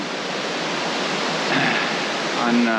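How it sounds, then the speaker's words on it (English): Waterfalls at Tolantongo, Mexico roar as a dense, steady broadband rush of falling water, loud and continuous, with a faint voice surfacing briefly beneath it. "I hope you can hear me over the waterfalls behind me."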